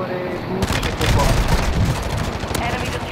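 Gunfire rakes a vehicle in the video game Call of Duty MWII, with rapid, loud bursts of shots rattling close together over a rumbling background.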